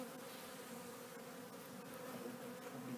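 Honeybees swarming over the open frames of a hive in a churchyard apiary, a dense, continuous, loud buzzing drone close by that holds steady for three seconds with nobody talking.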